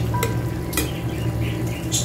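Two long chili peppers dropped into a cooking pot of papaya tinola: a couple of quick clinks of utensil against the pot over a soft, steady simmering hiss, fairly quiet.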